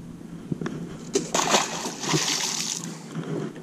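A carp is released back into Smith Mountain Lake in Virginia, making a few close splashes and sloshing water along with handling noise. Someone speaks briefly in the background.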